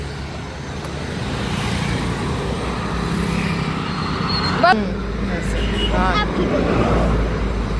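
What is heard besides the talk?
vehicle approaching fast on a road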